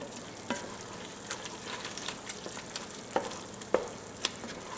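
Half a cup of flour cooking into a light roux in a pot sizzles steadily, with soft scraping clicks of a spoon stirring through it, close and fairly quiet with no talking.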